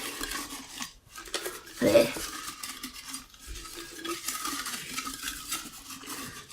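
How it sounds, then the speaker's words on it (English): A jar full of paper book slips is shaken and stirred, giving a close rustling, rattling clatter with a sharper burst near the middle, continuing steadily throughout. "So here is my fantasy TBR jar. Let me give it a good old shake and a good old mix"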